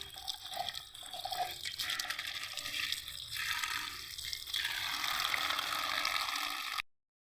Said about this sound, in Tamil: அரைச்சி அப்படி அப்படியே கழுவி வச்சுடுவோம்.